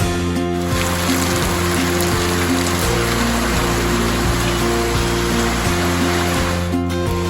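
The Aparna river flows without pause, a dense, constant wash of rushing water running close by, with a faint low hum underneath.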